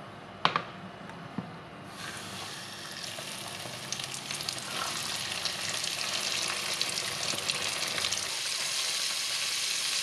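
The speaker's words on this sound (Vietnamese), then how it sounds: "nó nổi bong bóng lên là xèo xèo là mình sẽ cho cá vô chiên" Steady crackling sizzle of fish frying in hot oil, a few sharp pops at the start, continuous and close with no talking.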